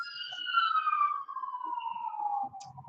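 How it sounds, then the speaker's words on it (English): An emergency vehicle siren wails with a long, falling tone, loud and fairly near, sliding steadily downward as it passes by. "Every time I'm making a video, here come these sirens."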